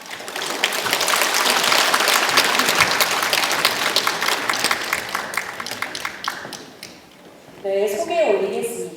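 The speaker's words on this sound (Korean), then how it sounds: "전문가분들이 입장을 하실 때 큰 박수로 환영해 주시기 바랍니다." Audience at a district office building public briefing gives a loud, sustained round of applause as experts enter, dense clapping that thins out, then a voice speaks over a microphone at the end.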